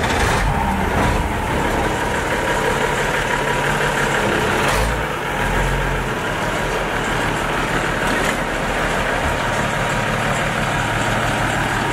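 A Unimog in Germany with a machine mounted on it idles with a loud, steady, low diesel rumble that goes on without a break, with only slight changes in the drone.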